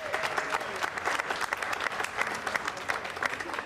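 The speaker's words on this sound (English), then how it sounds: "so please give them a round of applause" An audience at an outdoor Juneteenth flag-raising ceremony applauds, a soft, steady patter of many hands clapping at a distance, with a faint voice or two mixed in.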